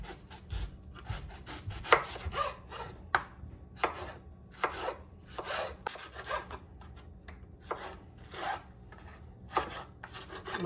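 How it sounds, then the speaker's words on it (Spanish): A sharp knife peeling a mango scrapes and cuts in short, irregular strokes, each a brief rasping swipe close by, with quiet pauses between them. "Lo primero que vamos a hacer es pelar el mango con un cuchillo que tenga filo"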